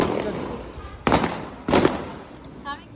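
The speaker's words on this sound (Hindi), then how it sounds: "आज मैं लेके आया हूँ एक बड़ी सी लड़ी पटाखों की, वो पटाखे फोड़ेंगे" Firecrackers from a long string go off during Govardhan Puja celebrations, heard as two loud separate bangs about half a second apart over faint background noise and chatter.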